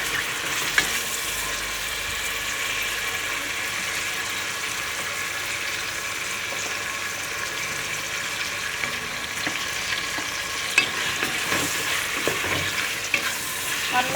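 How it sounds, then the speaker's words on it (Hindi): Meat sizzles steadily in ghee with ginger garlic paste for a chana dal gosht, a continuous close frying hiss with occasional stirring scrapes and clinks throughout. "अब मैं इसको अच्छे से फ्राई करूँगी और इसमें मैं साथ ही अदरक लहसुन का पेस्ट जो है वो ऐड कर दूँगी।"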